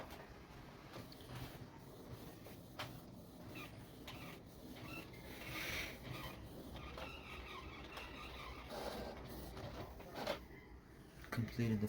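An inkjet printer with newly replaced ink cartridges prints a nozzle check pattern after deep cleaning, a steady mechanical whir with repeated carriage passes and brief clicks running throughout, close by.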